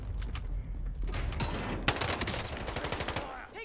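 Gunfire in an online shooter video game, a rapid fusillade of sharp repeated shots that builds to a dense automatic burst midway, moderately loud under faint background game noise.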